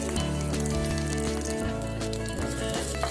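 Mustard seeds, dried chillies and curry leaves sizzle loudly in hot coconut oil as a tempering for Kerala-style mango pachadi, a dense, continuous frying hiss with crackling pops, heard up close.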